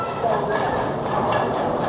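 Darjeeling Mail passenger train from Sealdah toward Haldibari, heard as a steady, loud rumble of rolling carriages throughout, with continuous broadband rail noise and faint rhythmic undertones.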